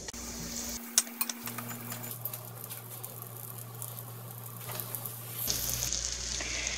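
Chicken breast dusted in flour fries in vegetable oil and butter in a pan over medium heat, giving a soft, steady sizzle and crackle with a few faint clinks, fairly quiet and without talk.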